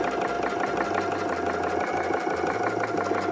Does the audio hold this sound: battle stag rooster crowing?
no